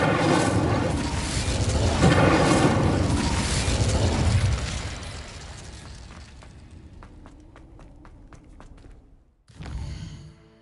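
A fire spell cast in the Hogwarts Legacy video game erupts in a loud, roaring whoosh of flame, dies down into scattered crackling pops, then ends with a short, sharp burst.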